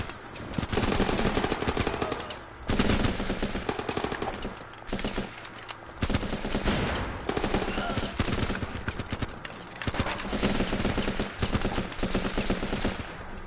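Rapid automatic gunfire rattles through a video game battle in dense, loud bursts separated by short pauses, with volleys of shots layered over one another.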